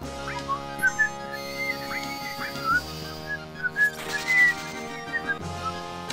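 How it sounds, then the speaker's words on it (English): A person whistles a melodic tune in short phrases over background game music from Final Fantasy VII, the notes clear and fairly close. "Keep whistling."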